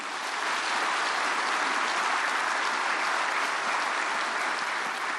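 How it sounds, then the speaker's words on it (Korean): A congregation at a prayer meeting applauding steadily, a dense wash of clapping that holds at an even level throughout with no voices over it. "박수로 환영해 주시겠습니다"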